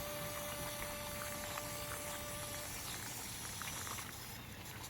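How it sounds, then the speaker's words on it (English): Water pours and splashes steadily onto soil around a potted desert rose (adenium) cutting, a continuous close trickle that thins toward the end. "the last thing you need is water the plant."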